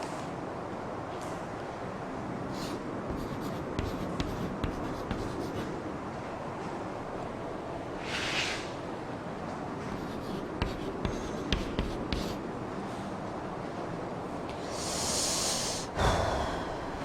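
Marker or chalk writing on a classroom board, a continuous close scratching and squeaking of strokes with brief pauses and a few louder taps, no talking.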